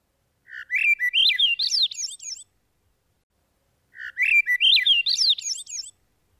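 A Swainson's thrush sings two clear phrases, each an upward-spiraling flutelike song roughly two seconds long, separated by a short silence, close and alone.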